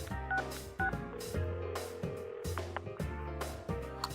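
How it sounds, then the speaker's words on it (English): Phone dialing tones from the video game Persona 4 Arena play as a cell phone places a call, a rhythmic series of beeps and ringing pulses that repeat steadily and loudly with no talk. "I call up Yosuke-kun on my phone"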